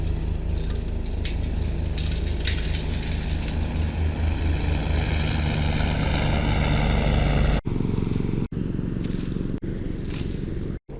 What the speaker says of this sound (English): that helicopter that just went up overhead, I think it was police